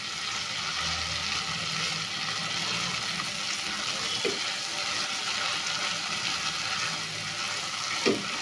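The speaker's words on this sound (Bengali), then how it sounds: "এটাকে আবারও ভালো করে কষিয়ে নিতে হবে।" Shrimp malai curry frying in a pan: a steady, fairly faint sizzle and crackle continues throughout, with a couple of soft clinks of stirring.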